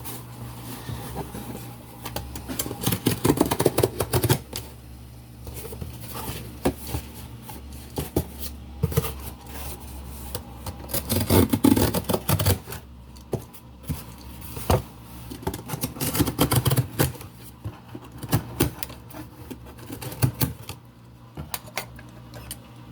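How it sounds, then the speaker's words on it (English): Cardboard box sides being perforated by hand make irregular clusters of short scraping taps and crinkles, close and moderately loud, with quiet gaps between bursts over a long stretch. "perforate the sides like this. You don't have to really cut it, just a little bit."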